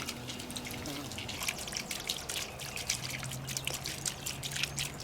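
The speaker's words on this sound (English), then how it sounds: "The sound of that splashing water is so relaxing." Water from a small solar-powered pond fountain with a 6.5 watt pump splashes and trickles steadily, a close, continuous bright patter with scattered drips and no talking.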